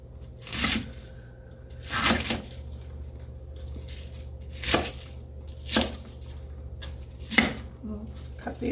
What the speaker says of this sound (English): I'm going to go ahead and just slice this and cut it